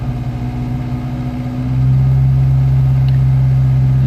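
A Volvo Amazon 122S with a B18 engine idles with a low rumble, then is revved up and holds a louder, steady higher-pitched drone.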